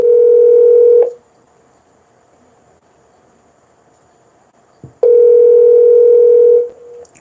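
Telephone dial tone during a callback, two loud steady tone bursts separated by a few seconds of near silence, with a click before the second burst.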